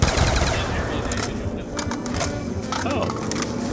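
Gunfire in Black Ops 2 Zombies on the Town map: dense, continuous automatic shooting that stays steady and loud throughout, with cluttered game sounds layered underneath.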